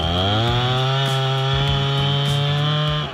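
A chainsaw runs steadily at high revs, cutting into a big tree on a high mountain on Norfolk Island. The engine drone is loud and close, holds unbroken for the whole stretch, and shows faint bites and rasps as the chain works through the wood.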